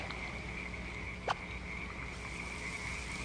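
Male toad, clasping a female, gives a brief sharp warning call when a rival male tries to grab him; one short burst rises over a steady insect-like hum and faint background noise.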